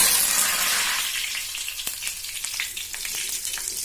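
Curry leaves drop into hot oil in a pan off the stove, bursting into a loud hiss that fades within a second into softer, scattered crackling and popping, with no voices.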